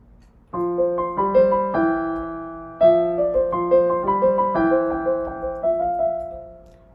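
A piano plays a song in an easy arrangement, with bright, rhythmic repeated notes in the familiar riff, clear and close with no voices.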